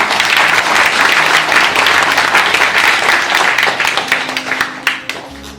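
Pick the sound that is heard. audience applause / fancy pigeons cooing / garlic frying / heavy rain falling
audience applause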